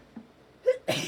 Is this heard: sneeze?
yes